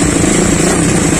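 A Raider 217cc motorcycle engine with its catalytic converter removed runs with a loud, steady, close drone that holds an even pitch throughout.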